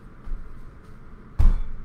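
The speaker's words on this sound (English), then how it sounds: "Bangs are very simple. They sound exactly the way that they are. You're just banging your foot." A single bang from an Irish dancer stamping a foot on the floor, a sharp thud heard once near the end after a quiet stretch of room tone.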